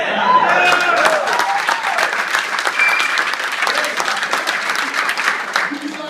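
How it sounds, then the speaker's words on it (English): Audience applause at an Ignite event talk, dense continuous clapping from a crowd throughout, loud and fairly close, with a voice speaking over it. "You guys clap"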